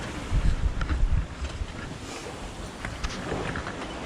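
Sailboat under way in 16 to 20 knots of wind at about 6.6 knots, with steady rushing wind and water noise throughout, louder buffeting gusts near the start and softer sloshing afterward.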